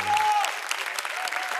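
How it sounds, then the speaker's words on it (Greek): A Greek TV talk show's studio audience breaks into applause, a short burst of dense, steady clapping that fills the room for under two seconds after a brief tone. "Όσοι ξέρετε, χειροκροτήστε με να δω."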